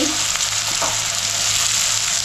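Loud, steady sizzling of onion frying in a hot pan, a dense hiss with a brief clatter near the start.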